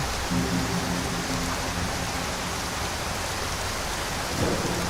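Steady rain and rolling thunder in a modded Skyrim world, a constant dense hiss of raindrops with low rumbling underneath, loud and unbroken throughout.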